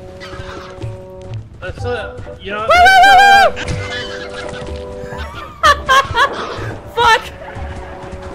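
Bird creatures in a video game let out loud, harsh honking squawks in several bursts, one long and strident, mixed with a player's shouting and laughter.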